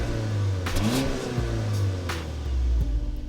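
A 2018 Audi A5 Sportback 2.0T Quattro's turbocharged four-cylinder pulls hard through the revs with a steady mid-pitched drone and a brief dip at a gearshift, heard from inside the car.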